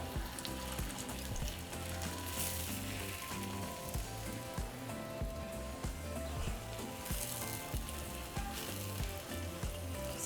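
Sopes sizzle in a pan of hot oil with a continuous crackling fry and occasional louder pops, steady and close throughout with no talking.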